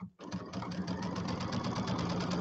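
Sewing machine running a quarter-inch piecing stitch on a settee pillow, starting abruptly and then humming and clattering steadily at a fast, even pace.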